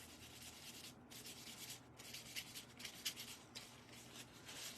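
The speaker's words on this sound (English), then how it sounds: "And then I'm gonna rub it on here so you can see it." Chalk paste rubbed by hand onto a mason jar for a beach craft project, a soft steady scrubbing and rubbing close by, quiet and continuous with small rhythmic swells and no voices.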